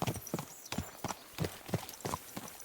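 Horse hooves clip-clop at a walking pace in Kingdom Come Deliverance 2, several distinct hoof strikes with an even rhythm, fairly close, moderately loud over faint background ambience.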